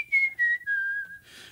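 A man whistles back to a bird outdoors, imitating its call with a few clear sliding notes that descend in pitch, close and unaccompanied, ending in a soft breathy rush.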